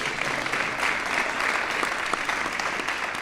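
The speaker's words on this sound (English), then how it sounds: "You can clap, man." Steady audience applause fills the room at a community meeting about the Davis Fire, a dense, even patter of many hands with no talking.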